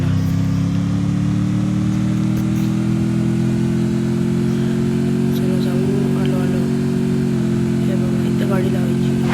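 Car engine in the video game Free Fire, a loud, steady mid-pitched drone that rises slightly as it revs, holding throughout with faint game sounds behind it.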